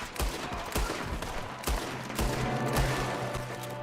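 Gunfire in Red Dead Redemption 2 cracks out in a quick volley of sharp shots, several rapid reports in the first seconds and then a few more spaced ones over a steady background, no talking.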